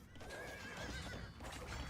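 Scout cavalry horse in the video game Age of Empires 2 gives a clear whinny with clip-clop hooves, brief and fairly faint, with no talk over it.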